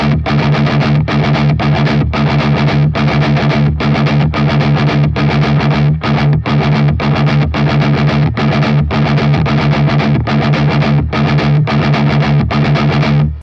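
A heavily distorted electric guitar plays the breakdown section of a song in a steady, chugging rhythm of palm-muted chords broken by brief gaps. The tone is loud and close, with effects, and no voices.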